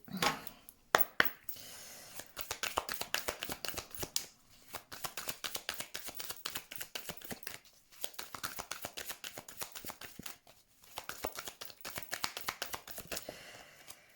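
Lenormand cards being shuffled for a card reading, heard as a close, steady run of quick papery riffles and slaps in bursts with brief pauses, with no voice over it.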